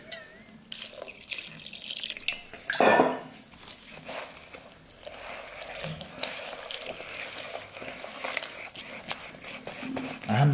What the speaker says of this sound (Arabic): ندير بقية المية